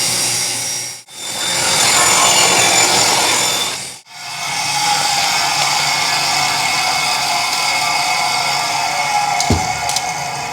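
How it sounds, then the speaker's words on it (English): A table saw cuts through scrap wood in two long passes, a loud, dense grinding roar with brief drops to near silence between cuts, then a steadier blade whir afterward. "I got this fancy table that cuts stuff too with a blade in the middle of it."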